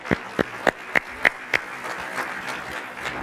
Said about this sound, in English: help give me a round of applause to the panel